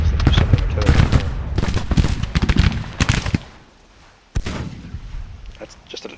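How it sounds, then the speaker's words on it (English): Artillery fire in Grand Tactician: The Civil War at the Battle of Manassas, a steady run of booming cannon shots and crackling volleys, a brief lull, then a sharp blast, with someone talking over it. "It's ridiculous that there's so many artillery in here."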